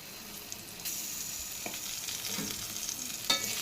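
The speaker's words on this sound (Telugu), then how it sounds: "ఇప్పుడు మనకి బీట్రూట్ మంచిగా ఫ్రై అయింది కదా, మనం ఇందులో ఇప్పుడు జింజర్ పేస్ట్ వేసుకోవాలి." Beetroot frying in oil in a pan with ginger paste added, a steady soft sizzle with occasional stirring scrapes and clinks, close and moderately quiet, no talking.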